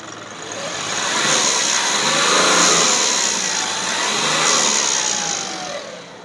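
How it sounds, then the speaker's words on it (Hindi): Diesel engine of an Ashok Leyland Bada Dost BS6 light truck running steadily after a restart, a loud close broadband rumble that swells and eases slightly over the seconds, with no talk. "ये देख सकते हो दोस्तों बंद करके चालू किए हैं। और ये दोस्तों है ये इंजन का फायरिंग"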